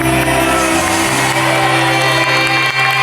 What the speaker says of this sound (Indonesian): Tepuk tangan dong untuk dua tim kita ini.